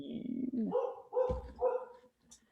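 A dog gives several close, clear barks in a short run, with a person's voice heard just before them.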